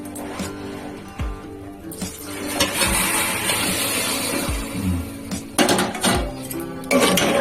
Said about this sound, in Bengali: সবার আগে এই যে গরম জলটা দিয়ে দিচ্ছি